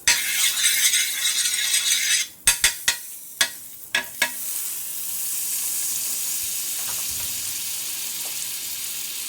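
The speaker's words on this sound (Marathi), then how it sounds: "तव्यामध्ये बटर घालायचं आहे" Butter hits a hot griddle for pav bhaji with a loud burst of sizzling, then a run of sharp tapping clicks, settling into a softer, steady sizzle.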